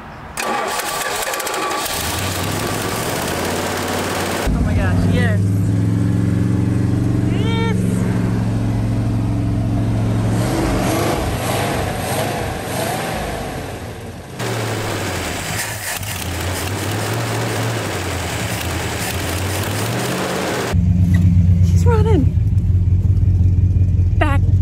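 An abandoned Plymouth Fury is cranked and fires up in bursts, then settles into a rough, rumbling idle, with a second start and idle near the end, loud and close while someone speaks between runs.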